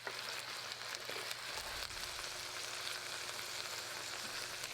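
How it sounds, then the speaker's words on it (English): Onions frying in a pan while a sauerbraten is being prepared, a steady close sizzle and crackle holding at an even level throughout with no talk. "let them fry a little bit."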